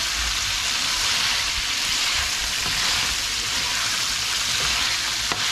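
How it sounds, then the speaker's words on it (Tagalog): Pork belly adobo sizzles steadily in hot, bubbling oil in a pan, a continuous close crackle and hiss that stays loud throughout with no voices. "pag medyo kumukulo na yung mantika"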